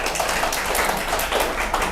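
An audience applauds at an elementary science program information session: steady, dense clapping from a crowd fills the whole stretch, fairly loud and close, with no pauses.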